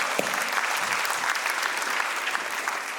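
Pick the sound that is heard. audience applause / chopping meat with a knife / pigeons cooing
audience applause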